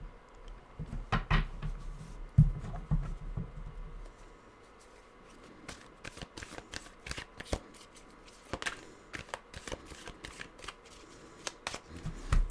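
Tarot cards being shuffled, a soft riffle and low thumps early on, then a long run of crisp, rapid flicks and snaps as the deck is handled close to the microphone, with no talking.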